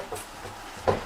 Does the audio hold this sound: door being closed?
yes